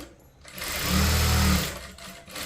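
A sewing machine runs a short burst while stitching the final seam on a blouse fitting, a steady motorized whir rising in the middle of the clip and then stopping, close and fairly loud with no talk.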